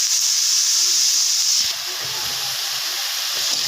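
Ridge gourd cooking in a hot pan, a loud close hiss of steam and sizzle that eases after a moment into a softer, steady crackle with faint stirring clatter.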